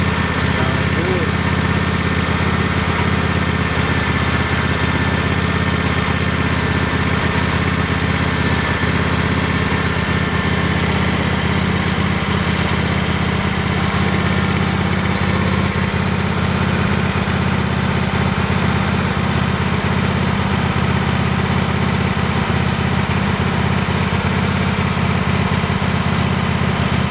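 A newly installed engine on a SCAG lawn mower idles with a steady, loud, even drone that holds unchanged throughout, the mower running close by.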